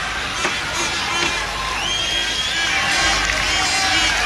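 A packed cricket stadium crowd roars and whoops after a wicket falls during a one-day international between India and Sri Lanka, a dense, sustained wall of cheering with whistles and shouts rising throughout.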